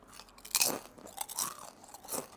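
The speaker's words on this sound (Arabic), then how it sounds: "انا في حياتي ما شفت الشيبسي مقرمش بالشكل ده" Close, crisp crunching of Egyptian potato chips being bitten and chewed, a few sharp crackling bursts with no talk.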